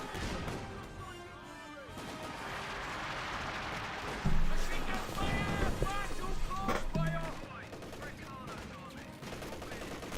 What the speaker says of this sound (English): MG-34 suppressing on the Royal Engineer.